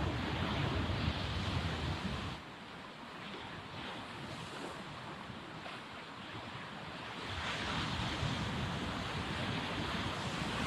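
Sea waves wash along a Panama shoreline in a steady, close roar of surf mixed with buffeting wind, easing slightly for a few seconds before swelling again.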